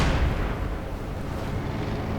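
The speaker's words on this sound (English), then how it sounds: "Imagine some light artillery popping up to cover the north point." Light artillery fire in the strategy game Company of Heroes 2, a dense rumbling barrage of low booms and bursts that fills the whole moment, loud and continuous with no voices.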